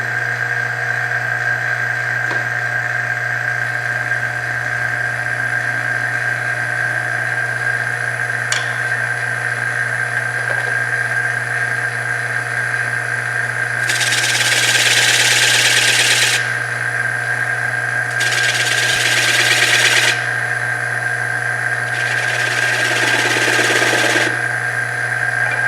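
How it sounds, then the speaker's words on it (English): A scraper cutting grooves into a workpiece on a lathe, three rough scraping bursts over a steady motor hum, fairly loud and close, with no talk. "I'm going to use my my same scraper here to put some grooves in here."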